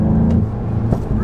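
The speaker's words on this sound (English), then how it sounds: "I'm really digging the exhaust here, and yeah, but the nice little growl coming from the engine" A 2023 Volkswagen GTI with a manual gearbox gives a steady low engine and exhaust growl from inside the cabin while driving, a continuous rumble with a slight rise near the end.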